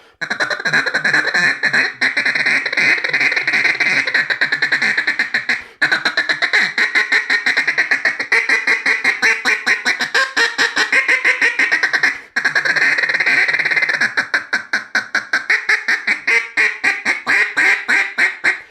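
Hand-blown duck calls imitate a whole flock of quacking ducks on the water, a loud, continuous run of rapid raspy quacks and chattering feeding calls with only a couple of brief pauses.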